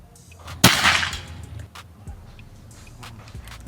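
A single sharp crack from a Predator Escobar Gen 2 PCP air rifle during a 70-meter accuracy test, one loud close shot with a quick decay, followed by quiet outdoor ambience.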